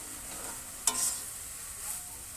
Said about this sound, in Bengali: ভালো করে আমি এবার নাড়াচাড়া করে নেব